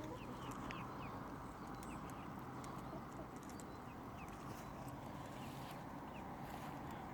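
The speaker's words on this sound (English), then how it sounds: "I just let all the chickens out." Backyard chickens cluck softly and intermittently after being let out, faint and scattered over a steady outdoor background hum.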